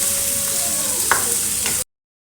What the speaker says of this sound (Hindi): तो 5 मिनट के लिए फ्राई करूँगी चिकन को।